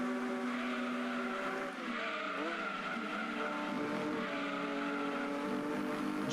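Race car engines in the Gran Turismo 2 video game, with a GT40 approaching: a continuous high engine whine with shifting pitch, a brief tire squeal partway through, no talking.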